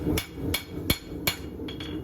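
Six sharp metallic hammer blows from a Yukon forge hammer strike a horseshoe in a quick, uneven rhythm, close and clear, ringing like steel, at a horseshoeing contest.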